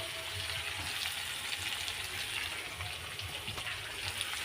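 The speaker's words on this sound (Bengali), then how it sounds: "এবার একটু ভেজে নিয়ে তারপর মশলাগুলো দিয়ে দেবো" Papaya and potato pieces fry in a pan with turmeric and salt, giving a soft, even, continuous sizzle heard close but quietly throughout.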